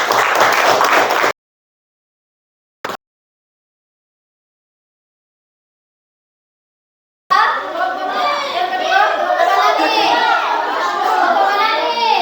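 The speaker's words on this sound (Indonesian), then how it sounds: "kita beri tepuk tangan dulu untuk kelompok" A classroom of students gives a student group a short burst of applause, then silence, then children chattering and moving about.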